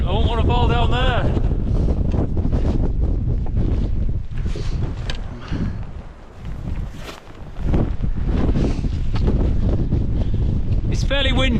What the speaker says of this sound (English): It's fairly windy, but it's not too bad.